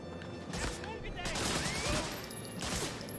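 Pistol shots fire in the Medal of Honor Frontline video game, a few quick cracks amid dense game noise and effects, fairly quiet and mixed with a speaking voice.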